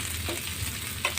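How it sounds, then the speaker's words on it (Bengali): Ginger frying in a pan gives a brief, steady sizzle with a faint scrape or two of stirring, close and even, with no voices. "আদা বাদামি বাদামি ভেজে নেব"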